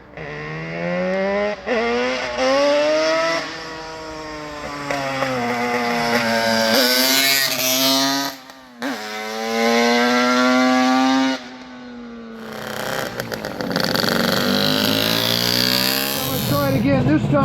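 A Yamaha RD400 Daytona Special motorcycle engine runs loud and close with the choke off, its pitch rising and falling as it revs, with brief dips between throttle blips.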